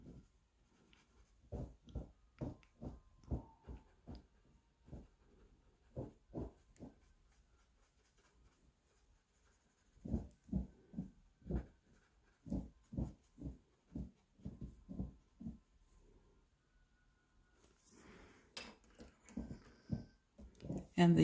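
A graphite drawing tool scratches across paper in bursts of short rhythmic strokes, close and fairly quiet, with pauses between groups and no talking.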